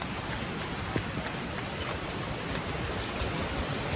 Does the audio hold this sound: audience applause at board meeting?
no